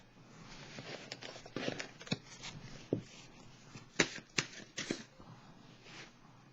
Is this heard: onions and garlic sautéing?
no